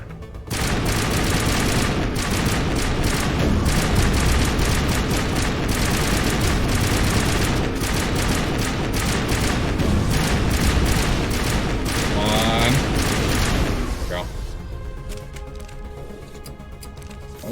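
Rapid bursts of gunfire in the sci-fi shooter Mass Effect, loud and nearly continuous for about thirteen seconds of dense cracking shots, then tapering off into a quieter stretch of scattered game sounds.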